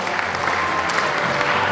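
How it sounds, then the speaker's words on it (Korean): Steady, dense applause from an audience at the first anniversary ceremony of the Saemangeum Development Corporation, a continuous even wash of clapping with no gaps, fairly loud and close. "여러분 뜨거운 박수 부탁드립니다"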